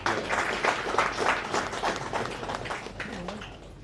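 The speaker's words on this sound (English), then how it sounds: "So shall we please give a round of applause to them." Audience applause at the official opening conference of the Maritime University in Freetown, Sierra Leone, for a committee of experts: brisk, uneven clapping from a crowd with distinct claps, tapering off near the end.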